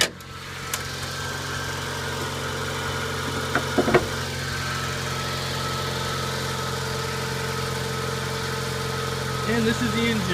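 A 1990 Mazda Miata's 1.6-liter four-cylinder idles steadily and close by, a constant low hum with a faint click partway through and a brief voice near the end.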